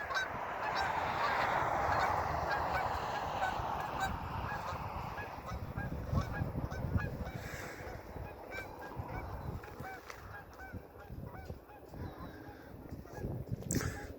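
Geese honking, a dense chorus of many birds calling over and over from a moderate distance, fairly faint, with steady background noise and no talking.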